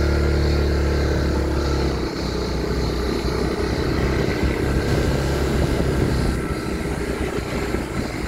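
A 300cc motorcycle engine drones steadily and loudly up close, with a dense continuous rumble that swells slightly as it revs, on a hillside road above Tsampou beach near Agios Konstantinos on Samos.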